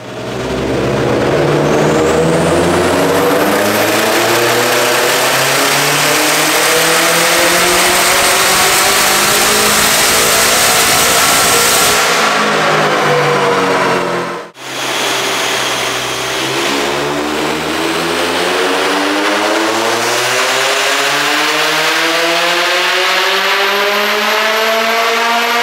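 A turbocharged Gen1 Toyota 86 running ethanol on 14 psi of boost revs loud and close, its engine note climbing and falling in long sweeps, with a brief cut midway before it rises again.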